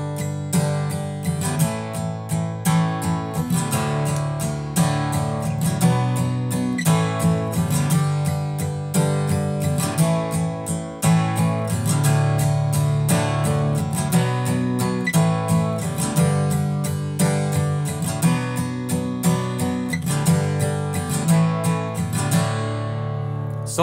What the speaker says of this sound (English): it's mostly down strums, and really you just do a down up right before you transition to the next chord